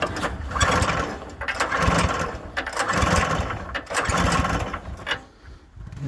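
A Troy-Bilt 2410 small engine, just back from a carburetor cleaning, sputters through repeated bursts as it tries to start and run. The uneven surges rise and fall close by, with brief dips between them.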